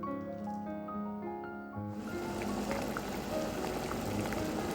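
Beef brisket with scallion, whole garlic and peppercorns simmers in a pot, rising to a soft, constant bubbling and burbling after a brief quieter opening.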